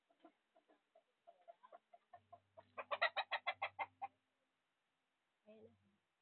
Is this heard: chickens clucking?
yes